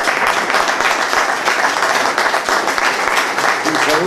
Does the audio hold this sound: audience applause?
yes